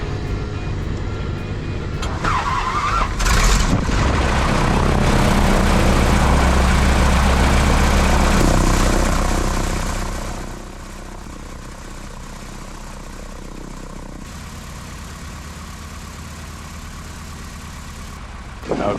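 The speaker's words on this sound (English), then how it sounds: "And then it was finally time to start the engine." Boeing Stearman biplane radial engine cranking over and catching, running loud and steady up close before settling into a quieter, even idle.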